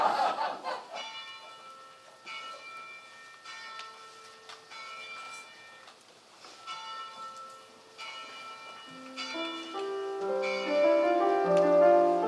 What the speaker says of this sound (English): The bell's about to ring.